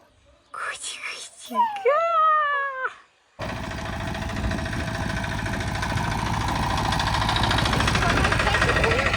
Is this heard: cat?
yes